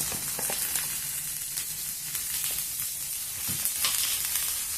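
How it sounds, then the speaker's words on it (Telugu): Onions with salt and a little turmeric sizzle steadily in a pan for a raw banana fry, a continuous close frying hiss with occasional stirring clicks and no talk. "ఇంకా కొద్దిసేపు వేయించుకున్నాము ఉల్లిపాయలని."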